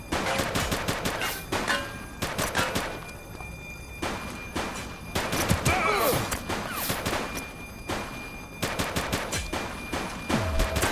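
Loud, continuous gunfire during a shootout in The Precinct police game, with overlapping rapid bursts and single cracks packed closely together, along with thuds and faint movement in the mix.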